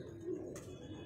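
An Imamdeen pigeon gives a brief, soft low coo close by, quiet and alone for about a second.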